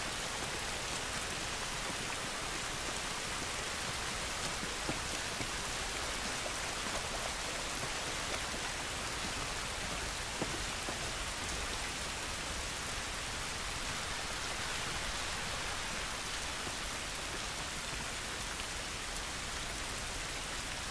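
Steady rain pours outside in The Last of Us, a dense, even hiss of drops on surfaces that runs unbroken for the whole stretch with no voices.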